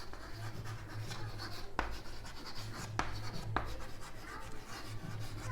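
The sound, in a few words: writing on a board during a lesson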